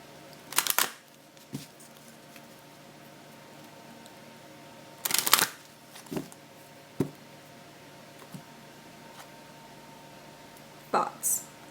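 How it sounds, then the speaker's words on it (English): Cards being pulled and handled during a tarot-style reading: a few brief papery flicks and snaps spaced across a quiet room, with soft shuffling taps in between. "I'll go ahead and pull a second card"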